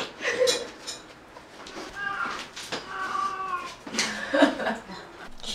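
A cat at home cries loudly in long, wailing, baby-like meows, several drawn-out calls rising over a noisy indoor background with some faint voice-like sounds mixed in.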